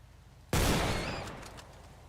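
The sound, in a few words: gunshots at a rabbit in video game Project Rogue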